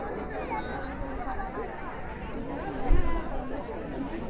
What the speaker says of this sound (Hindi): देख लीजिए कितनी भीड़ है